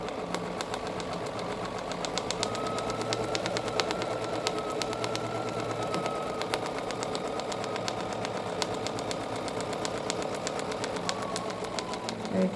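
A Bernina Q24 long arm quilting machine stitching, its rapid, even mechanical chatter running steadily and close throughout with no pauses.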